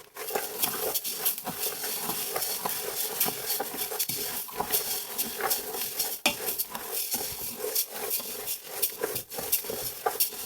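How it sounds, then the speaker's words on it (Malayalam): Coriander seeds, fennel and curry leaves roasting in a pan are stirred without pause, producing a steady, close scraping and dry rattling patter throughout, with no talk. "നല്ല പോലെ ഇളക്കി കൊടുക്കണം"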